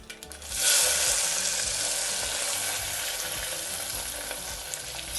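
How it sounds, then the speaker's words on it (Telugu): Chopped onion and green chilli drop into hot oil with tempering for a raw tomato curry, bursting into a loud sizzle that settles into a steady, close frying hiss with light stirring. "నేను ఇప్పుడు మనం ముందు ఉల్లిపాయ పచ్చిమిరపకాయ ముక్కలు వేసుకుందాము."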